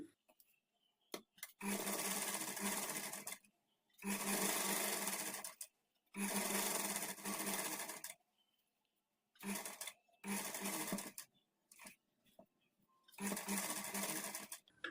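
Sewing machine stitching blouse sleeves, running in five or six separate bursts of steady whirring, each lasting one to two seconds, with quiet pauses between them and no talk.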